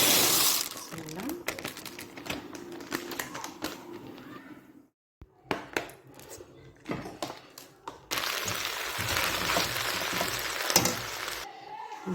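Dry pasta pours into a pan with a spoonful of hot oil for koshari, rattling and crackling near at hand, then breaking into a louder steady sizzle after a brief pause, with a voice speaking during it.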